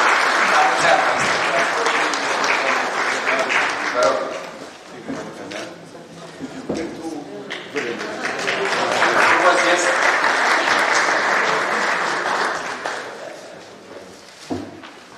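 Council members applaud during a county council session in a meeting hall in Bacău, a sustained patter of clapping that swells and fades across the room, mixed with voices talking over it.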